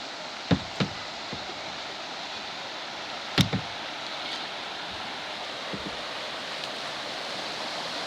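Water rushes over a dam on Antietam Creek, a steady broadband roar heard from a boat approaching, with a few sharp knocks of paddles or hull against it.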